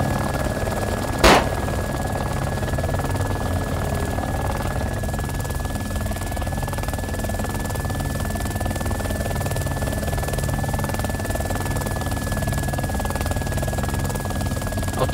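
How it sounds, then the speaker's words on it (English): A helicopter in the video game DayZ drones in a continuous rotor hum with a steady tone, broken once near the start by a sharp single crack like a gunshot. "That heli might blow up."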